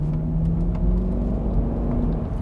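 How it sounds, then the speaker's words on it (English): A Range Rover engine growls at low revs, a loud, close, steady rumble with slight swells and no voices. "Very, very addictive sound, and a reassuring little growl letting you know that you have all the power in the world"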